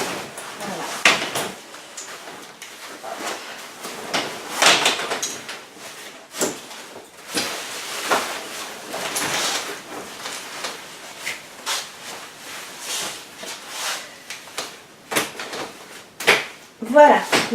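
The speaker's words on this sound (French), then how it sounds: "Il y a une manette sur chaque assise et on tire un coup sec et la poussette va se fermer." A Baby Jogger City Mini GT double stroller being folded by pulling a handle on each seat, giving a series of mechanical clunks and clicks at close range, with a voice speaking at times.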